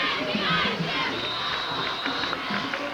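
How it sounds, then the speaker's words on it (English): A crowd of fans at a rainy high school football game between Parkland and Central Catholic makes a steady wash of distant shouting and cheering, with scattered louder calls. "There was a pretty good crowd here tonight for these conditions."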